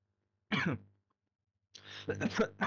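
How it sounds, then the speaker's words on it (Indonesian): Two bursts of coughing or throat clearing, a short one first and then a longer, rougher fit after a pause, close to the mic. "maaf, saya batuk"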